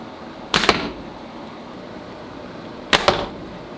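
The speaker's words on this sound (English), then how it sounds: "we're gonna shoot the bow, no string silencers. It's a noisy bow." A longbow with no string silencers fires twice, each shot a sharp, loud snap of the string with a brief twanging thump, the two releases spaced a couple of seconds apart over quiet outdoor background.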